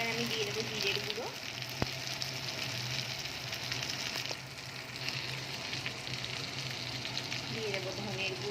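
Cumin powder hits a hot pan while a Bengali sankor fish dish cooks, giving a loud, steady frying sizzle throughout with a sharp clack of a utensil near the start.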